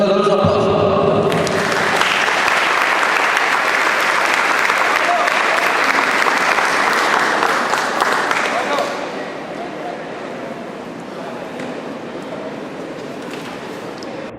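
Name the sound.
audience applause welcoming a lecturer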